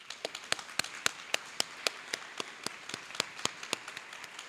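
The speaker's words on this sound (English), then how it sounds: "Let's give them a round of applause." A sparse round of applause for faculty and staff, with a few distinct hand claps ringing out in a loose rhythm over a quiet room, faint and thin rather than a full crowd.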